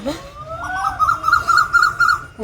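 An owl calls at dusk in an open rural setting, a clear, fairly close hooting series with rising, wavering tones repeated several times over a low, steady outdoor background.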